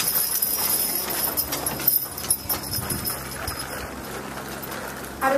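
A hitch of Belgian draft horses walks down a road at an agricultural show, hooves clip-clopping in an uneven rhythm at moderate distance over steady outdoor background noise.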